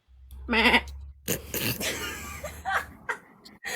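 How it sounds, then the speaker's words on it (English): A baby lamb bleats once, loud and close, while people chat and laugh around it. "that was my baby lamb"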